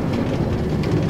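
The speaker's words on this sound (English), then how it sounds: "And now we're doing a wee train journey." A Minecraft train ride in a map called The Dropper: a steady, dense rumble of rolling rail travel, continuous and fairly loud across the short stretch, with no voices.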